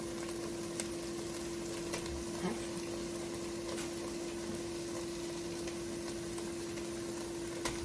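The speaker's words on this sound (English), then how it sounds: "let's go ahead and put in our Jimmy Dean breakfast sausage first" Jimmy Dean pork breakfast sausage frying in a pan, a steady soft sizzle with faint crackles and occasional light taps, plus a constant electrical hum beneath it.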